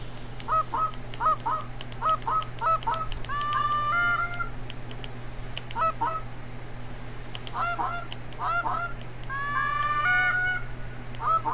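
Geese honking in theHunter: Call of the Wild, repeated clusters of short nasal honks from a flock over a field, some calls close and loud, others farther off, with steady background hum.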